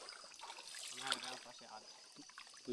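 Clean water trickles through a forest stream in a steady, close, low-level flow, with people talking over it.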